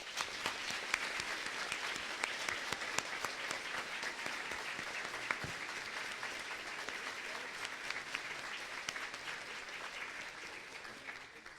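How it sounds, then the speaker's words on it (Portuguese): Warm, sustained applause from a church congregation welcoming the bishop at a Confirmation Mass during a patron saint's novena, dense steady clapping throughout with no talk over it. "vamos acolher o nosso bispo com muito carinho, com uma calorosa salva de palmas."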